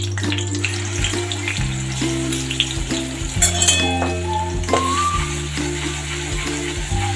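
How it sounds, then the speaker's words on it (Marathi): Curry leaves and garlic crackle in hot oil for a prawn curry, a close, steady frying hiss with sputters and light stirring over a sustained musical drone, with no talking. "कढीपत्ता आणि लसूण चांगली फ्राय करून घेऊया तेलामध्ये"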